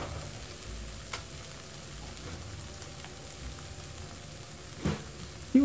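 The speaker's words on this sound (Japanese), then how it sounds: "いい感じに炒まってきましたね。" Ingredients for omurice stir-fry in a pan with a soft, steady sizzle, broken by a few faint clicks and scrapes near the end.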